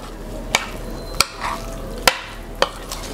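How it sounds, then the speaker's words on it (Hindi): Chicken marinade of yogurt and gram flour, about 1 kg of chicken, is mixed in a bowl, a soft wet stirring with four sharp spoon knocks against the side. "अब दोबारा इसको अच्छी तरह मिक्स कर देना"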